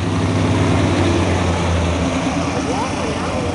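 A pair of 360-horsepower classic cars, a 1967 HO and a 1966 tri-power, fitted with big tube headers, rumble loudly and steadily at idle, a deep continuous engine drone filling the whole stretch, with people talking nearby underneath it.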